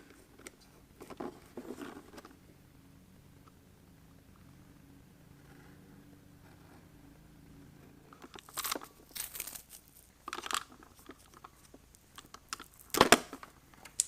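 A power tool cord's insulation is cut and stripped to expose the wires: scattered crunchy snips and crinkles come in short bursts near the start, then again in a sharper cluster toward the end, with quiet stretches between.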